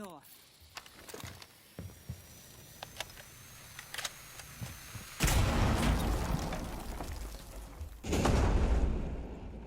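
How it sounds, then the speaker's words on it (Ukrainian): Two loud, broadband explosion blasts in Rainbow Six Siege X, the second a few seconds after the first, cutting through quieter clicks and background action. "Там вибух?"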